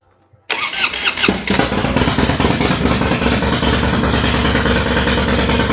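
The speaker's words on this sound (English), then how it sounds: "So I'm going to go ahead and fire the bike up right now." A 2006 Harley-Davidson Dyna with an 88-inch engine and six-speed transmission cranks briefly after near silence, catches, and settles into a loud, steady, loping idle up close.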